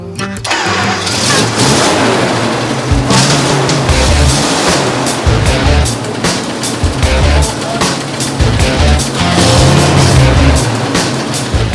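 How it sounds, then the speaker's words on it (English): WWII White M3 half-track engine fitted with a new distributor cap, starting up and running loud and close, with uneven rough firing, lumpy revs and repeated throttle bursts over roughly twelve seconds. "Hopefully, the new distributor cap will get the M3 firing."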